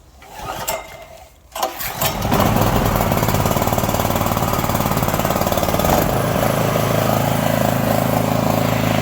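A Kraft&Dele KD160 petrol generator pulled into life, a brief sputter and catch followed by a steady, loud buzzing engine run at constant speed, close by.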